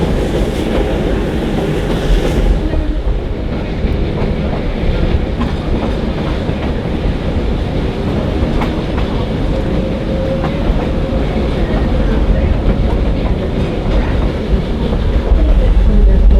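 Riding aboard a Black Hills Central Railroad 1880 train on narrow gauge track, a loud, steady low rumble of rolling wheels and car noise continues throughout, with faint rhythmic clicking over the rail joints.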